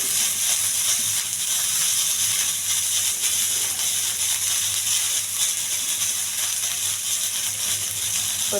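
Steamed broad beans (chikkudu) dropped into a hot tempering of cumin, dried red chillies, garlic and salt, giving a loud, steady close sizzle and hiss that runs unbroken throughout with no talk.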